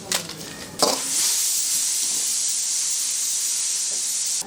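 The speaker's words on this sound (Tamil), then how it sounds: "பெருங்காயம் போட போகிறோம். காஞ்ச மிளகாய் போட போகிறோம்." Asafoetida and dried red chillies hit hot oil for an Andhra drumstick sambar tempering, bursting into a loud, steady sizzling hiss after a sharp onset and holding continuously to the end.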